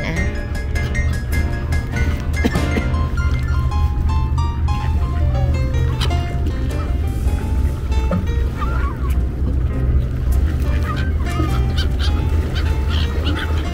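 A large flock of ducks on an island honks and quacks continuously and loudly at close range, a dense overlapping chorus over a steady low rumble.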